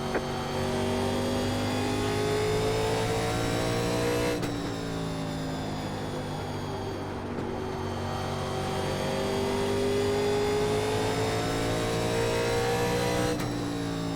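A 1987 NASCAR Legends race car circles Bristol in the iRacing sim, its engine a loud, continuous harmonic howl that rises in pitch, drops off abruptly around two points on the lap, then climbs again, with no voices.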